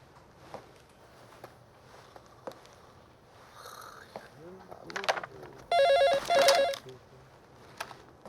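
Amid quiet background noise and a few soft sounds, an electronic telephone ringtone trills in two short bursts, fairly loud and close, in a police station.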